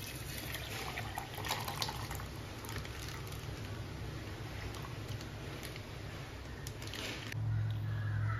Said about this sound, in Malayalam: തണുത്ത പാല് ഒഴിച്ചു കൊടുക്കുക.